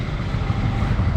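Motorcycle engine running on a ride from Rangamati to Chittagong, a steady low rumble that stays close and even throughout the short stretch.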